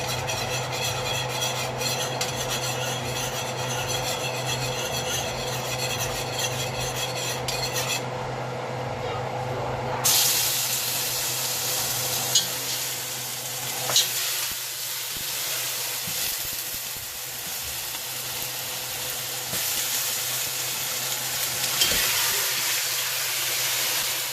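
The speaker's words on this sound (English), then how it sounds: "See, it's starting to bubble up." Oxtails drop into hot oil for Caribbean-style cooking, setting off a steady broadband hiss and sizzle that jumps louder partway through, with scattered clinks of a pot and utensils as the meat is stirred.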